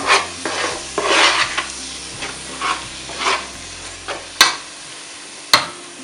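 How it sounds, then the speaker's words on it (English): Ground egusi frying in oil sizzles steadily in a pot while a spoon stirs it, scraping in repeated bursts, with a couple of sharp clinks of utensil against the pot near the end. "Let it mix with the oil. You keep stirring so that it doesn't burn"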